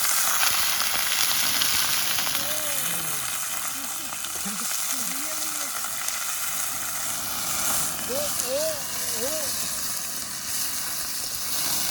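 Chicken meat sizzles and fries steadily in hot oil while a Maggi dish is cooked, a continuous close crackling hiss throughout with a few brief tonal sounds over it.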